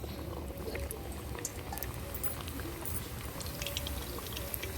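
Pieces of coconut and flour paraku dough fry in hot oil, giving a quiet, continuous bubbling hiss with scattered small pops throughout.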